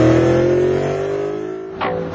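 A 556-horsepower Cadillac CTS-V Coupe with a manual transmission revs loudly, its engine pitch sliding steadily down before two short, sharp bursts of throttle.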